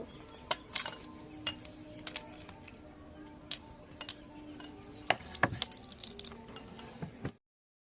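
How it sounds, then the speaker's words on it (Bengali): Raw chicken meat is washed by hand in water, with faint drips, small splashes and wet squelches at irregular intervals over a quiet room background before the sound cuts off. "মাংস আমি খুব ভালো করে ধুয়ে নিয়েছি।"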